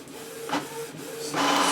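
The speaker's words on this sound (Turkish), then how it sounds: "Gördüğünüz gibi yazıcımız talimatı alıp baskı vermeye başladı" A Canon inkjet printer printing a test page, with a mechanical whir and repeated sliding strokes of the print carriage, loud and close, building to a steady grinding feed at the end, no talking.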